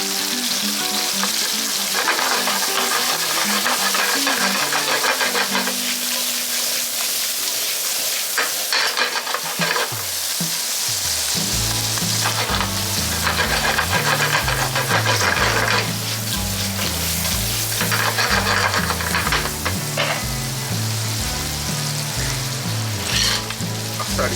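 Argentine red shrimp fry and sizzle steadily in a pan for a pasta with clams and tomato, a dense continuous crackle with stirring, with music playing underneath and no talking.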